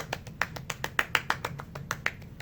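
Hands clapping softly and as quickly as possible to imitate the pitter-patter of rain for a school chorus piece, a close run of around fifteen light, crisp claps in a slightly uneven rapid rhythm.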